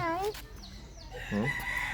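Chickens clucking with a rooster crowing nearby, loud bursts at the start and again near the end, with a voice talking faintly in between.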